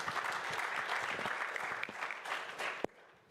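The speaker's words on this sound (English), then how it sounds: "I would like to applaud the speakers from this panel" An audience at a multimodal transport conference in Hamburg applauds its panel speakers with steady, dense clapping at moderate distance. It ends with one sharp final clap before a sudden drop to quiet room tone.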